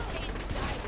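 Rapid pistol gunfire in the video game Saints Row: The Third, a dense, loud burst of shots filling a short moment with no pauses.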